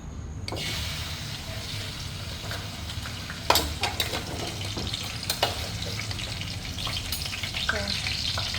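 Pork leg (pata) fries steadily in hot oil, a dense continuous sizzle with scattered crackles and a few sharper pops, close and fairly loud with no talking.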